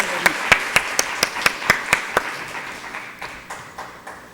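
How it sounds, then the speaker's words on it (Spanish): Audience welcoming a lecturer at a keynote conference: about nine sharp, evenly spaced claps ring out loudly, then a few softer, fainter claps trail off. "Les pediría que recibiéramos con un aplauso"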